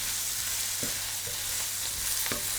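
Spices roasting in a pan for a rougail saucisse, a steady dry sizzle and frying hiss with a few brief stirring scrapes, close and continuous with no voices.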